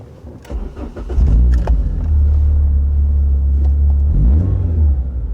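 A Renault Clio 2 RS, the first Renault Sport model, pulls away as a drive begins: a loud, close engine rumble rises from idle into a steady low drone, then swells again with a second rev near the end.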